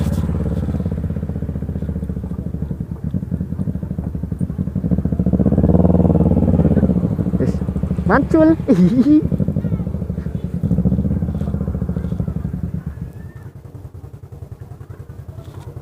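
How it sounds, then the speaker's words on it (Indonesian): A motorcycle engine runs steadily while riding around Indramayu, a continuous close rumble that swells briefly midway, with people talking over it. "Motor gua nyala."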